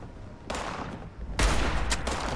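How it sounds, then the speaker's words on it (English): Hunting rifle shots in the video game Fallout 76 sound as a few sharp, loud bursts of gunfire, one near the start and a stronger one partway through, each trailing off into noisy echo. "Let's get a little hunting rifle out."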